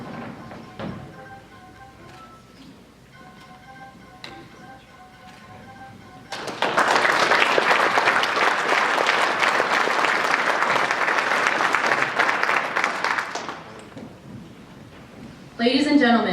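At an ROTC commissioning ceremony, the audience bursts into loud, sustained applause for the Army's newest second lieutenants, a dense roar of clapping lasting several seconds after a quieter stretch of room sound and low voices, then fading away.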